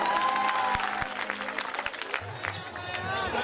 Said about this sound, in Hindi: बजा दो एक बार तालियां